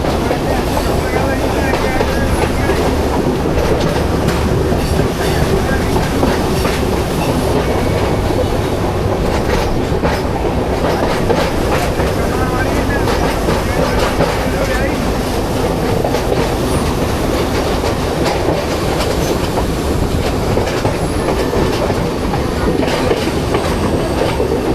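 A Sri Lankan coastal train runs right beside the sea, its wheels clattering in a steady loud rhythmic clack over the rails, with continuous rumbling carriage noise heard from on board throughout.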